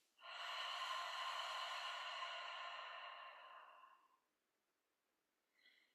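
Long, close breath pushed out through the mouth in imitation of a steam iron's release, a steady airy hiss lasting about four seconds that fades toward the end, followed by a short faint breath.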